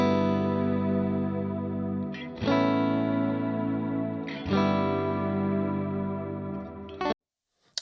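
Clean electric guitar chords played through a Quad Cortex ring out drenched in chorus and echo, strummed in a few sustained phrases, then cut off abruptly near the end.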